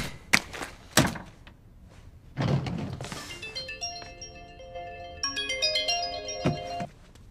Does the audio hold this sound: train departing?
no